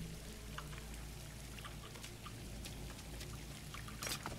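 Water being drunk in the Skyrim video game: a quiet, steady trickling pour with light splashy droplets running throughout, faint and continuous, rising briefly near the end.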